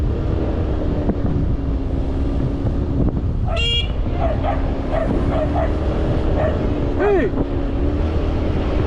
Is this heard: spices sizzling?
no